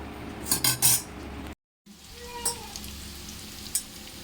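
Mango pieces fry in oil in a pan for a cauliflower pickle, a soft close sizzle with a few brief bursts of clinking and stirring, broken by a short silent gap.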